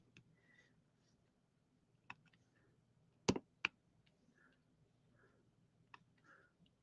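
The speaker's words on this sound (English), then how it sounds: "I love that when it makes that clicking noise and it fits in really nice" Diamond painting drills snapping into place on a canvas, several small sharp clicks scattered over a quiet background, with a few close, louder snaps near the middle and faint rustling between.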